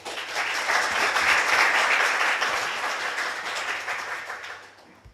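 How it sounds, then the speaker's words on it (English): A conference audience at PyCon APAC 2023 claps to welcome a speaker: loud, dense, sustained applause from a full room that tapers off toward the end. "please welcome Abe with a big round of applause"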